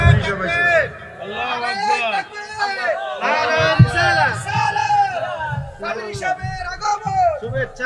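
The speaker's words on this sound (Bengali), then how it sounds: "নারায়ে তাকবীর একটা স্লোগান দেন" A large crowd at a religious sermon gathering loudly chants the Nara-e-Takbir slogan in repeated surging shouts, many voices together, close and strong throughout.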